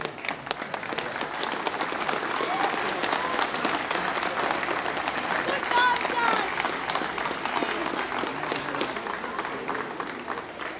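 Outdoor crowd applauding the winning Baltinglass side after the 2021 senior football final against Blessington, a steady dense wash of clapping lasting throughout with faint voices mixed in.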